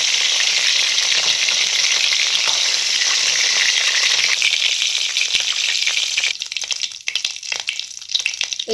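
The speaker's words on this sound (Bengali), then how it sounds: "এইভাবে আমি একে একে সবকটা মাছ ভেজে নেব।" Loud, continuous sizzling of prawns marinated in turmeric and chilli powder frying in hot oil in a pan, turning to sparser crackles and stirring rattles toward the end.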